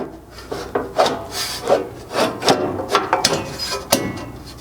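A metal skid plate slides forward onto mounting bolts beneath a Chevy Colorado pickup, making a series of close scraping, rubbing knocks in an uneven rhythm, with no voices.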